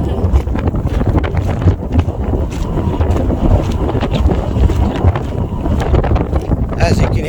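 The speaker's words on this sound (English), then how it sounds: "As you can hear, it got windy." Strong wind buffets the microphone beside the ancient Step Pyramid of Saqqara in Egypt, a loud, continuous roar with gusty rumbling throughout and no clear talk.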